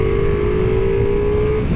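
A Ducati Multistrada V4 S motorcycle engine drones in a loud, steady rev, heard up close with strong wind and road roar throughout.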